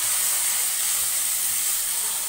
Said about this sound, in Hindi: ये देखिए 2 टेबल स्पून लहसुन अदरक लिया है, इसको अच्छे से भून लेंगे।